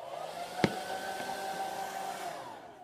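A handheld hair dryer blows steadily at close range, a continuous airy whoosh with a faint motor hum, broken briefly by a sharp click near the start; no talking.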